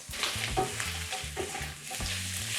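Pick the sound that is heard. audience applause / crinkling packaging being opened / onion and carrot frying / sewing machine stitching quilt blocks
onion and carrot frying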